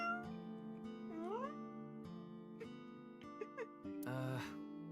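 A person playfully imitates a cat, giving several short meows with rising, wavering pitch, close and fairly quiet, toward a lucky cat statue in a game scene with soft background music.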